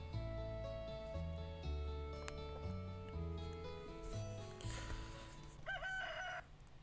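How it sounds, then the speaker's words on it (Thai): A rooster crows once in the farming game Stardew Valley, a clear, close cock-a-doodle-doo heard over gentle looping background music. "โอ้ยไก่ขันแบบว่าตัดเสียงด้วยนะ"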